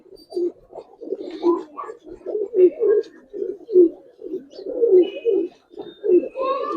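Several pigeons coo together after release, a continuous run of low throaty pulses rising and falling in a loose rhythm, close and clear, with faint higher chirps near the end.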